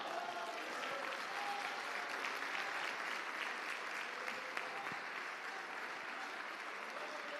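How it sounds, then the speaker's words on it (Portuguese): A church congregation applauds continuously, a dense, steady wash of clapping heard from a moderate distance without a break. "Aplauda o Senhor."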